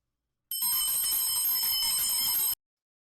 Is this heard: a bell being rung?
yes